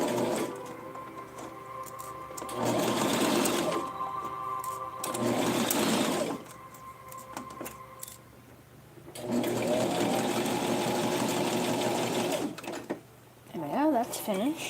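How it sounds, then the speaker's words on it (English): A sewing machine stitches a doll outfit in several loud bursts of rapid mechanical whirring, separated by quiet pauses with soft handling noises. "Now we're going to sew the other side as well."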